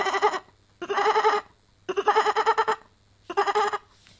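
A human voice imitates a goat bleating, giving four wavering, nasal bleats in separate bursts with short pauses between them, close and clear.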